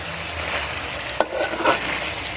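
Pork adobo frying in its own rendered oil in a pan, a close, steady sizzle with a brief stir and scrape partway through.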